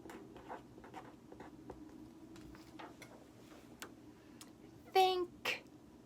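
Hand-writing the words thank you on paper, producing soft scattered scratches and taps of a pen or pencil, faint and close, with a few brief voice sounds near the end.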